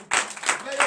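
Congregation clapping in acclamation during a morning prayer service in Benin, a short burst of hand claps with voices mixed in, under a second long.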